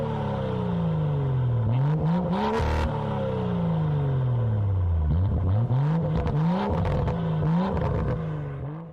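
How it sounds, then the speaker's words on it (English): A BMW X4's exhaust roars loud and close as the engine is revved repeatedly, rising and falling in long sweeping pulls with rattly bursts between them and no voices. "Now let's listen to the sound of the exhaust X4."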